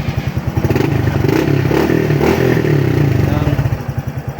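An RS125 FI motorcycle is fired up with the electric starter, then its engine settles into a close, loud, pulsing idle with rapid rhythmic throbs.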